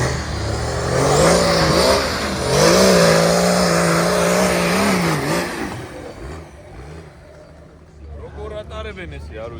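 A car engine revs hard at an off-road trophy trial, rising and falling whines up close with loud crowd voices and shouting over it before the engine fades.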